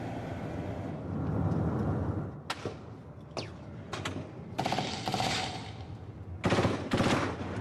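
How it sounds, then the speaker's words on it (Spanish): Gunfire volleys aimed at a convoy in an armed separatist conflict zone in northwest Cameroon, with rapid bursts and single cracks that come in irregular clusters over distant engine rumble, fairly loud and not far off. "Nueva salva de disparos sobre el convoy."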